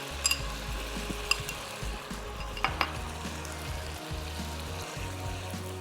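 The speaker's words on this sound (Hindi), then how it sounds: "आप 30 से 40 सेकंड तक मसालों को भून लें" Spices frying in a pan, a soft continuous sizzle broken by scraping and clinking as they are stirred, fairly quiet and close with no talking.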